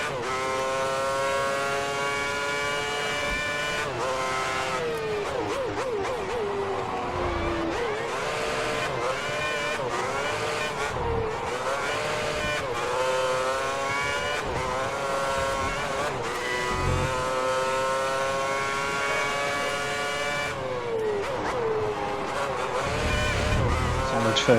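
A race car's engine in a racing video game set in Australia 2010 revs hard and continuously, its pitch climbing and dropping through gear shifts, with brief tire squeal along the way.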